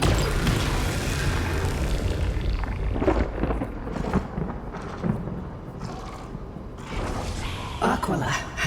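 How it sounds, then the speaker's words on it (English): A huge laser blast from the Honkai Star Rail story: heavy booms and crashing impacts rumble on loudly, with sharp bursts near the end and no talk over them. "Fire my laser."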